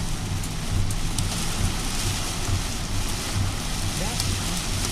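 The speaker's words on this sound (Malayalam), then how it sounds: "നല്ല മഴ പെയ്യുന്നത്" Heavy rain pours down steadily in Dubai, a dense continuous hiss of drops close by with a low rumble of wind beneath.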